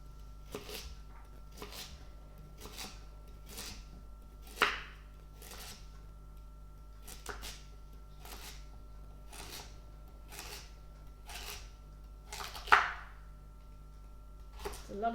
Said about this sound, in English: It's a lot of chopping.